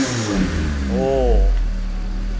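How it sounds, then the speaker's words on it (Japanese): A Honda K24 VTEC engine swapped into a Toyota MR2 Spyder gets a short, rising rev from idle before settling back, heard up close with voices around it. "ちょっと吹かしてみてもらっていいですか？"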